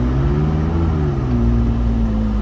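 A McLaren 600LT pulls away, its engine holding a steady, loud, droning tone with a slight rise and dip in pitch throughout the short stretch.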